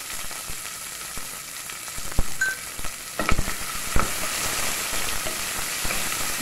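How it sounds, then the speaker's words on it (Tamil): Onions fry in a pan with salt, a steady hiss and sizzle with scattered scraping clicks of stirring throughout, close and moderately loud, no talking. "வெங்காயம் டக்குன்னு வதங்குறதுக்கு கொஞ்சமாக உப்பு சேர்த்துக்குவோம்."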